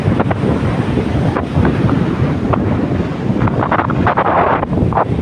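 Strong wind buffets the microphone at the Pattani seaside, a steady loud roar with surf washing underneath throughout, no voices.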